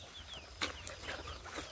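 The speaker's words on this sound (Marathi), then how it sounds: "गावरानी कोंबडी" Desi country chickens cluck softly in a poultry shed, with short scattered calls and a brief sharper squawk over a steady low farmyard hum.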